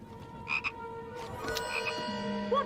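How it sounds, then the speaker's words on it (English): Frog croaking in a Harry Potter film scene aboard the train, a few short close croaks with a soft background hum and tonal music-like lines, no speech. "a frog escapes from the chocolate treats Harry brought and jumps out of the window."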